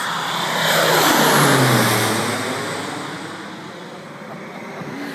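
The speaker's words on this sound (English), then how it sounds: "Here comes the crop duster. Coming right at us." A crop duster airplane sweeps low overhead, its engine swelling to a loud roar and then fading away with a falling pitch, heard alone without talk.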